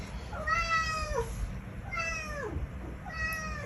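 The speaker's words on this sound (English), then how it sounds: "That's my cat." A house cat meows three times, each meow a drawn-out, falling cry with clear pitch, spaced about a second apart over a faint steady background hum.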